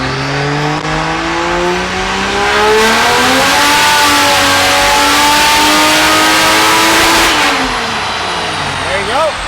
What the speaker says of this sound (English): once you're gonna just floor it, and then once you kind of hit rev limiter, just push the clutch in and take it out of gear